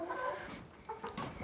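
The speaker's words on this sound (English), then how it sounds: "Oh, there's a chicken." Chickens on a winter homestead clucking in short, irregular bursts at moderate distance, the calls fairly soft against faint background noise.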